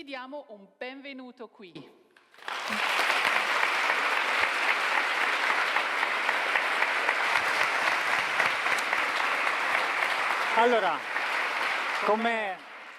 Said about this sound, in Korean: 이 자리에 모인 천여 명의 참가자들이 보내는 뜨거운 환호